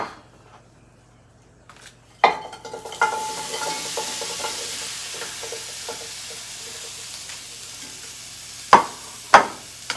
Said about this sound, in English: return everything back into the gravy and let it saute for a while